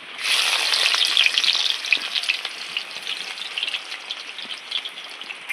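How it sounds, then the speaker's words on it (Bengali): Chopped onions fry in hot oil in a wok. A loud, bright sizzle bursts up as they go in, then settles into a steadier crackle with light stirring, and no talking. "তো কেটে রাখা পেঁয়াজগুলো দিয়ে দিচ্ছি এবার"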